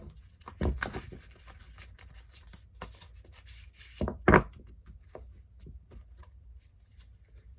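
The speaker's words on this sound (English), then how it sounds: "let's, of course, do some shuffling." Tarot cards are shuffled by hand in soft, irregular riffles and rubs, quiet and close, with a few sharper snaps and pauses between bursts.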